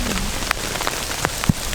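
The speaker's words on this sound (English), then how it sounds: "It's downpouring." Heavy rain pours down during a storm at a lakeside campsite, a steady dense hiss of drops with a few louder individual splats and no voices.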